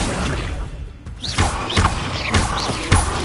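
An Accio spell cast in a Hogwarts video game, heard as a series of whooshing swoops with dull thuds, four or so rhythmic pulls each rising in pitch, loud and close with no voices.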